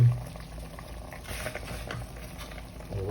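Sinigang broth with milkfish (bangus), radish and lemongrass bubbling at a steady boil in a pot, a close, continuous soft churning and popping that carries on unbroken throughout.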